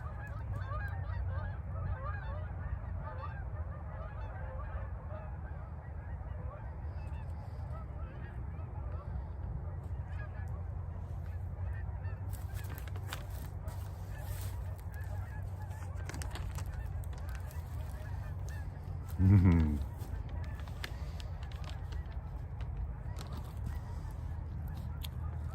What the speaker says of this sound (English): just had to have a quick break there for the geese